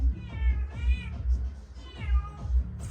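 A cat meows repeatedly in long, drawn-out, wavering cries, close and loud, with brief pauses between calls.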